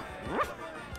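A single short dog bark, a quick yip-like woof, comes from the dog character in The Secret of Monkey Island: Special Edition, close and fairly quiet.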